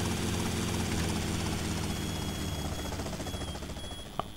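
Helicopter in GTA Vice City, a steady whirring rotor and engine drone at close range, holding level and easing slightly toward the end, with a brief sharp click near the finish.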